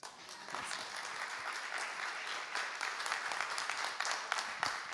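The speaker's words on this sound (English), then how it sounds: "So I expected applause" Warm audience applause greets a speaker at a food economy event, a dense, even patter of many hands clapping at moderate volume, with a few louder individual claps toward the end.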